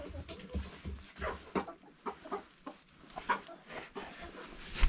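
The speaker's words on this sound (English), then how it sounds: "So the chickens are already turned in for the night." Several chickens cluck softly and irregularly nearby inside their coop at night, with short murmuring calls overlapping in a quiet enclosed space.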